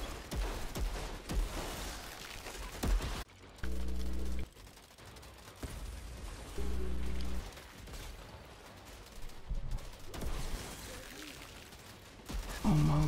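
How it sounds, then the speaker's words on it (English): Gunfire in the shooter game Outriders crackles in rapid bursts and scattered shots, with some heavier thumping blasts between them, as players talk over the action. "Who is shooting me?"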